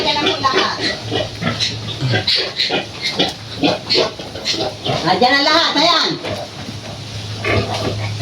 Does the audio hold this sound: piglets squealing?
yes